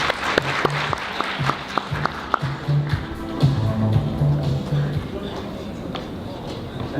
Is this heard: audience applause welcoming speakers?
yes